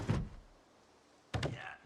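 A window being opened in Project Zomboid, two separate heavy thunks with a sliding scrape, the first short and the second longer with a rattling slide, quiet gap between.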